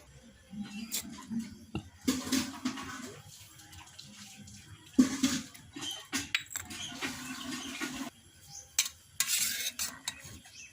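Pakoda batter of flattened rice and chopped taro leaves being mixed with turmeric, chili powder, salt and garam masala: close, wet stirring and squelching in short bursts separated by brief pauses.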